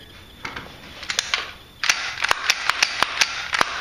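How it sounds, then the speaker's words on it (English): An AR rifle is cleared by hand, with a string of sharp metallic clicks and clacks as the magazine comes out and the chamber is checked, heard close up without talk. "let's do a weapons check. Got an empty mag."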